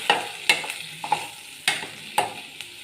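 A spoon stirs ground cumin-fenugreek powder into a frying mixture in a pan, giving several sharp scrapes and knocks at uneven intervals over a faint sizzle, close and clear with no talk.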